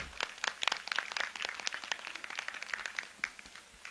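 Audience applause at a school alumni reunion for the 1995–1997 batches, a dense steady patter of many hands clapping continuously for several seconds in a large gathering.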